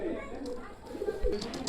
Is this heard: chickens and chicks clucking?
no